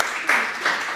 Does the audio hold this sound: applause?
yes